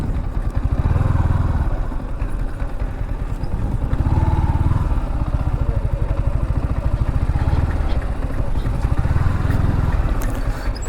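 A motorcycle ridden slowly into a car park, its engine loud and close with a rapid, even putter that rises in several surges, alone and without voices.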